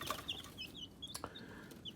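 Chickens, including Barred Rocks and a rooster, clucking in short, scattered bursts over a steady farmyard background, with occasional higher chirps from birds nearby.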